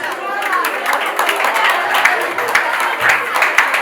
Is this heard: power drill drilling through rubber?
no